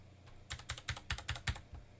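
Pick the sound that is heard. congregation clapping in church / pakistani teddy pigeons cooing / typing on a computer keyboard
typing on a computer keyboard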